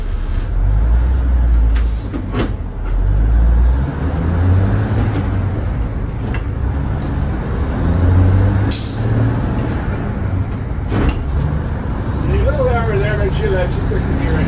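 A Bainbridge Crown bus is driven with its engine droning low and steady, gear changes, brief air-brake hisses and traffic noise around it, while people talk nearby.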